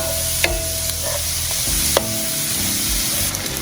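Peppers and onions sauté in a pan, giving a steady sizzle broken by clicks and scrapes of a utensil stirring the vegetables, fairly close and without talk.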